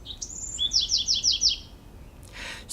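A bird chirps clearly in a quick run of about five bright, repeated tweets, close and alone against a quiet background, followed by a short burst of hiss.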